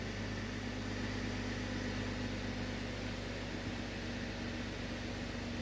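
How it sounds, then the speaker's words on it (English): A 2011 Cadillac CTS engine runs at a high idle on a cold start, a steady, even hum with a low droning tone and constant mechanical whir, no speech. "we are in a cold start, so we got a high idle"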